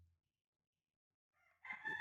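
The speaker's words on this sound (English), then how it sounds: "I have a rooster in my front yard. You can hear that." A rooster crows in a front yard, one loud, close call starting after a near-silent pause, rising into a strained cock-a-doodle-doo at the end.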